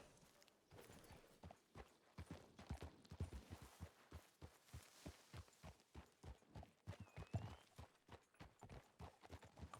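Steady horse hooves clip-clopping in a video game, in a quick, regular rhythm, fairly close and continuous throughout, with faint background ambience.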